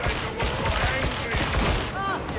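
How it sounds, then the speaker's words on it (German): Rapid bursts of automatic gunfire crackle in dense volleys during a high-intensity firefight in the video game Warhammer 40,000: Darktide, loud and continuous over the short stretch. "Wir fokussieren mal unser Feuer hier auf die Gunner"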